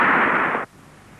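A single loud gunshot sound effect in an animated film, a broad sustained burst lasting about half a second that cuts off sharply into near silence, with a faint hint of another sound beginning at the very end.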